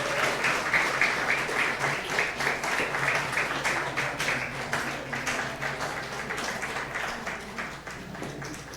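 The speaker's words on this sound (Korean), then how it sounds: "여러분 열렬한 박수로 축하해 주시기 바랍니다" A church congregation applauding a baptism, sustained dense clapping from many hands at a moderate distance, steady and unbroken across the whole stretch.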